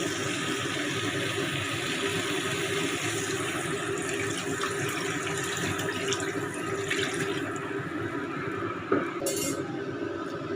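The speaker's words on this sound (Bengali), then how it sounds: "এবার জল দিয়ে দেবো, জল দিয়ে ফুটতে দেবো" Water is added to a pan of small-fish curry that has been sautéed and is set to boil, a steady running and splashing with occasional utensil clinks near the end, no talk.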